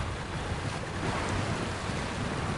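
A steady rushing, splashing wash of water noise as a truck pushes through water in the game SnowRunner, continuous and fairly loud with no talking.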